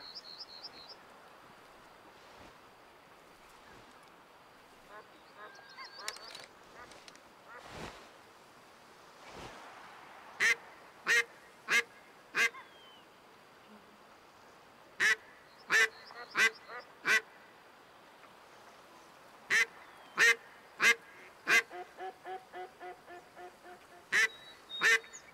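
Ducks in the hunting game Way Of The Hunter quack in several short, loud bursts over a steady wash of ambient water or wind noise, with quieter calls between them.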